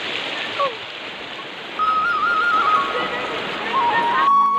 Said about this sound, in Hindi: झरना हमारे यहाँ का आप देख सकते हैं, सामने दिख रहा है